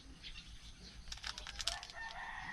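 A rooster crows faintly and far off in a rural village in northeastern Thailand, its call rising over a low background hiss.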